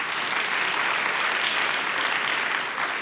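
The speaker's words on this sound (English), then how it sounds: "I think they deserve a great round of applause for really good work." An audience at a business conference claps for the wait staff in a steady, loud round of applause that holds evenly throughout.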